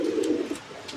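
One of a pair of fancy pigeons gives a single short, low, throaty coo. It is close and clear, ending within about a second, with faint background clicks.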